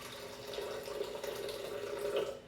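Boiling water is poured from a kettle into a blender jug, a continuous soft gurgling stream with a steady liquid rush, quiet and close, without any talking.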